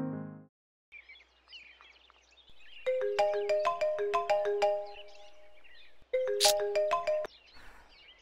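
Electronic phone ringtone plays a repeating chime melody in bursts, with a short pause before it starts again.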